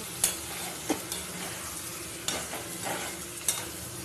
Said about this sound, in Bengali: আর একটু আমি জল দিয়ে দিচ্ছি, এটা ভালো করে কষিয়ে নেওয়ার জন্য